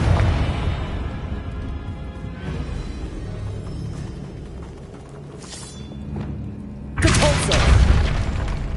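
A fiery explosive spell blast in a PS5 wizarding game booms with deep rumbling, then a second sharper, louder burst hits near the end, sounding close and heavy.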